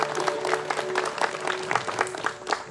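A church congregation applauding to welcome an archbishop at an Anglican Sunday service, producing a soft, distant, continuous patter of many hands with a faint tonal hum underneath.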